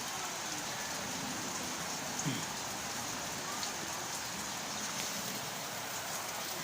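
Steady rain falling continuously on a plastic-sheet roof as a broad, even hiss, with a faint brief knock partway through.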